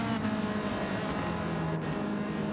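Ferrari race car engine in Gran Turismo 7, a steady sustained high-revving drone held at constant volume throughout without breaks.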